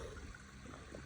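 A small waterfall on a morning trail, heard as a steady, soft wash of falling water with a constant broadband rush and no talk.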